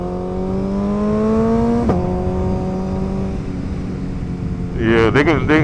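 A motorcycle engine idles, then rises in pitch as the clutch is eased out and throttle is applied from a stop. A steady, close engine tone climbs and shifts, with a voice speaking briefly near the end.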